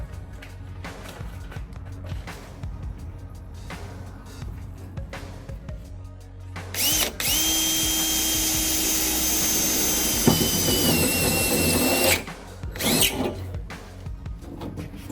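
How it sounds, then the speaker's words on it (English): Power drill boring holes through the metal body of a Ram Promaster van during a ladder install, a steady loud whine of about five seconds preceded by quieter handling noises and followed by a short burst. "And that's where we're going to drill."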